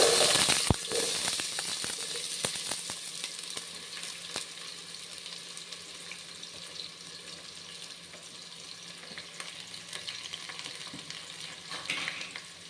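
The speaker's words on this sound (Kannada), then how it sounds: "ಇದನ್ನು ಇವಾಗ ಗೋಲ್ಡನ್ ಬ್ರೌನ್ ಆಗೋವರೆಗೂ ಹುರ್ಕೊಳ್ಳೋಣ." Chopped onions sizzle in a pan with oil while frying toward golden brown for fenugreek pulao, a steady moderate crackle with occasional stirring clinks and no talk.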